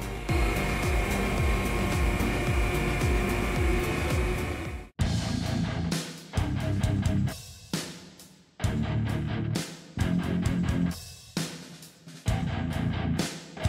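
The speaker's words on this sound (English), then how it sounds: "The shredder has a special asynchronous drive system." An industrial shredder with an asynchronous drive runs with a loud, heavy mechanical roar, heard in a series of abrupt segments that start and stop with sudden cuts.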